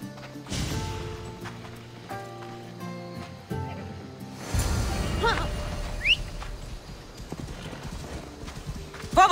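Hooves clip-clop in a steady trotting rhythm as a horse is ridden in Assassin's Creed Odyssey, with a brief whinny, a tonal music bed underneath and occasional spoken lines.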